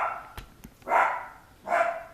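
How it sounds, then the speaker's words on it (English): After a doorbell rings indoors, dogs give two loud close barks, preceded by a couple of faint knocks or clicks. "So they rang the doorbell and the dogs went crazy"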